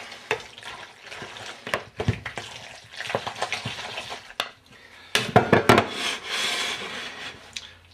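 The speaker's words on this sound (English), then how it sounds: "So now we're going to mix pasta and sauce. Give that a good mixing up." Pasta being stirred together with cheese sauce for mac and cheese, irregular wet squelching and scraping of a spoon against a pot, with louder clunks midway, no talk.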